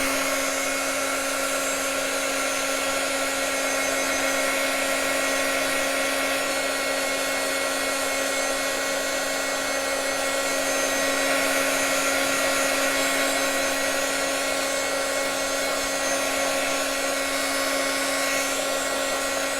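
Hair dryer blowing steadily over wet tattoo ink on skin, a constant loud whirring hum with a bright tonal whine that holds for the whole stretch without pause.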